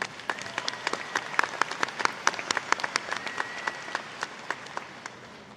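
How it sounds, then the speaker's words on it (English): A commencement audience at a university ceremony applauds for a grand marshal, sparse distinct claps ringing out over a softer crowd wash, thinning out toward the end. "Please give her a round of applause."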